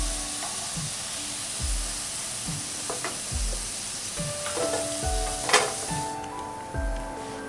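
Potatoes frying in oil in a kadhai give a steady, close sizzle, with periodic scraping stirs of a spoon against the pan throughout.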